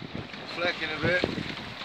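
A sailboat under full sail enters Rye Harbour amid gusting wind buffeting the microphone and rushing water, with tonal creaks from the boat and brief voices near the end.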